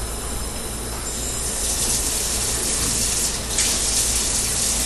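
Tap water runs in a steady, loud, even rush during hand washing before handling food at an event, with no pauses or voices.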